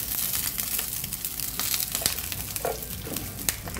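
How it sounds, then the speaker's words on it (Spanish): Tomatoes frying in a pan for chicken mixiotes, a steady, close crackling sizzle with occasional sharper pops and stirring scrapes. "Aquí mismo freímos el tomate."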